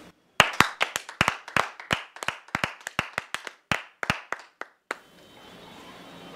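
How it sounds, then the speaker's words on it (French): Scattered applause from a small audience: about twenty sharp, uneven claps spread over five seconds, close and crisp, then stopping abruptly into quiet room tone. "nous allons lui accorder un tonnerre d'applaudissements"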